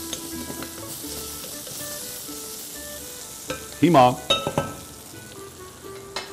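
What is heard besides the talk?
lamb meat and onion frying in pan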